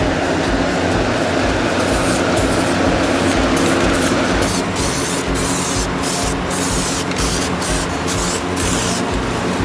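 Spray paint hissing steadily while a light coat goes onto a car dashboard, a dense continuous spray broken by brief regular pauses at the top end, loud and close with no talking.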